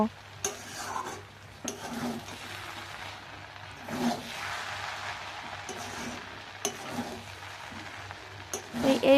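Shrimp pulao with black pepper being stirred in a pan, a spoon scraping through the rice in repeated strokes over a steady low sizzle, with occasional louder scrapes and a faint background hum.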